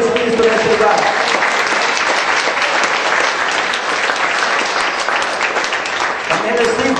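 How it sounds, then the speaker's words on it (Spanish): A church congregation claps steadily throughout as sustained, dense applause that fills the room loudly. Voices are heard over it. "Dale palmas al Señor Jesucristo en este lugar."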